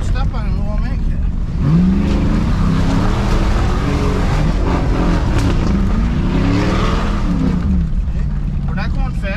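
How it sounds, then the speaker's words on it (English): A truck engine revs hard and loud, climbing and falling in pitch while its tires spin on a rough off-road trail; someone talks over the roar throughout. "We just had to spin the tires."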